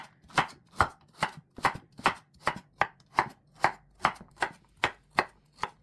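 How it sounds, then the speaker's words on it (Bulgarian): A knife chops a carrot into small pieces on a board, about fourteen crisp, evenly spaced strikes at a steady rhythm, close and clear with no talking. "Режем го на дребни парченци."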